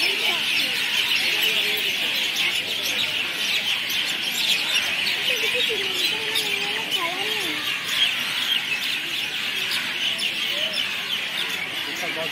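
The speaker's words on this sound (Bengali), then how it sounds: "এখানে পাখির আওয়াজটা শোনো, অরিজিনাল যে পাখির আওয়াজ বলে সেটাই" Birds calling inside the grounds of Belur Math, a dense wash of bright chirps and twittering filling the air continuously, with some faint voices murmuring underneath.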